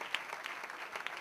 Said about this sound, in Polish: Prosimy, raz jeszcze brawa